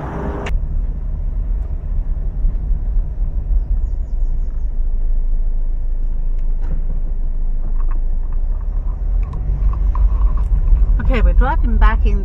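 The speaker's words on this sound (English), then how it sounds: "we're driving back into English Harbour now" A car drives into English Harbour, Antigua, with a steady low engine and road rumble throughout and a brief burst of higher sound near the end.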